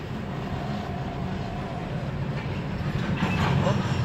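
A long, empty CSX coal train rolls past a crossing at Glenn Road, a low, steady rumble that swells slightly toward the end, heard from nearby at a moderate level.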